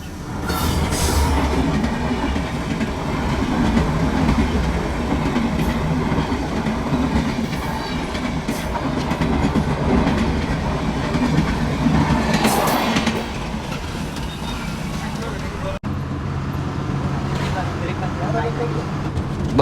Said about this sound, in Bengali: প্রতিমধ্যে মধুমতি এক্সপ্রেস ট্রেনের সাথে দেখা হয়ে যায় তারও একটা ভিডিও নিয়ে নিলাম